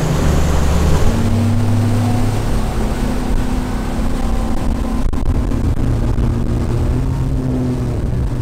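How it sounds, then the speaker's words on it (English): A bass boat's motor drones steadily while the hull runs across a wakeboard boat's wakes on open water, with wind rush and water slap layered over the engine's low hum throughout. "Now, let's go after this wakeboard boat, and we're gonna show you how to properly pass a boat with their boat wakes."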